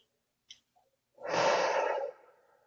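A single slow, deep inhale through the nose fills the belly in diaphragmatic breathing, close and breathy, after a couple of tiny faint clicks and before a soft trailing exhale.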